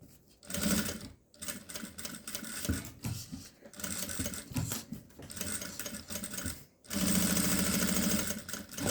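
A sewing machine stitches a fabric cosmetic bag in bursts, its rapid mechanical whir starting and stopping several times, slowing and pausing between runs before a steadier, louder stretch near the end.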